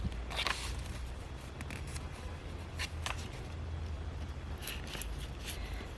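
Scissors cutting paper for a junk journal page, several quick crisp snips spaced across a quiet room-tone background, close to the mic.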